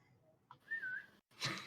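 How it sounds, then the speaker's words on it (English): A person whistles at a magic sword blade during a tabletop role-playing session: a short low note, a brief pop, then a sustained rising-and-falling whistle, a pause, and a final brighter burst of sound. "No, whistle at it."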